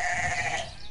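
A single sheep bleats loudly and close, one sustained wavering call that fades slightly at its end, heard alone without talk.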